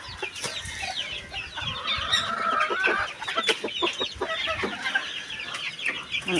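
Several chickens cluck and squawk close by in an irregular, busy chatter, with no talking.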